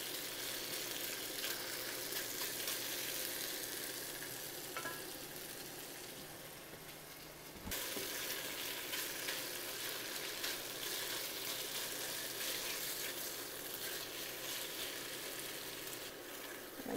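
Beef searing in a pan for chop suey, a steady close hiss and crackle of sizzling fat that holds throughout, briefly dipping before resuming at full strength.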